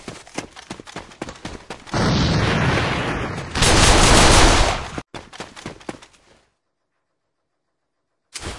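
Gunfire and explosive blasts in the video game A.V.A during a grenade throw: bursts of rapid shots, then two long roaring explosion-like swells, more shots, and a sudden drop to silence before a final shot.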